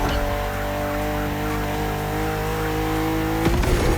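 A BMW M4 CSL, the BMW M 50th-anniversary edition, pulls hard under steady acceleration, its loud engine note climbing in a continuous near drone, then shifting abruptly near the end.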